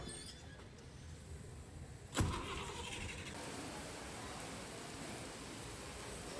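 A KSRTC bus engine runs steadily at Yellapur bus stand as the Mangaluru to Belagavi service readies to depart, with a sharp clunk partway through and a constant idling rumble throughout, no voices.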